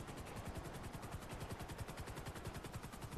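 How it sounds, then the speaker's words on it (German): A police helicopter in GTA Online chops faintly in the distance, its rotor pulsing in a fast, even rhythm under a steady engine drone, quiet and alone without speech. "Und da ist wieder ein anderer Heli."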